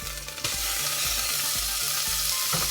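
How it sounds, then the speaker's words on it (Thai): Red curry paste frying in hot oil for a spicy Thai beef curry, a loud continuous sizzle with rhythmic scraping strokes of a spatula stirring in the pan. "พริกแกงแดง ไปคั่วกับน้ำมันก่อนนะคะ"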